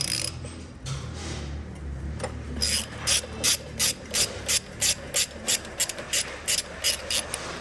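A ratchet backs bolts out of the height mechanism of an Aeron office chair, giving a close, loud, steady run of rapid clicking strokes after some initial fumbling and mechanical handling noise.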